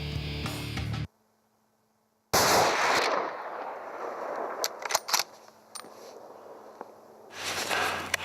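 A hunting rifle fires once outdoors on a hunt near a cliff chute: one sudden loud, sharp crack after a moment of silence, then a long rumbling tail with scattered small clicks and knocks.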